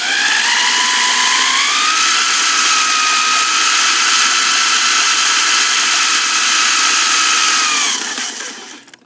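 A worn-out walk-behind lawn mower engine is spun over by an electric drill, producing a loud, close, sustained whine that rises in pitch at the start, holds steady and then winds down at the end.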